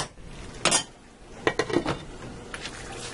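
A lid set onto a cooking pot of simmering bolognese sauce with tomatoes, giving a few quiet metallic clanks and clinks spread over a few seconds, with no talking.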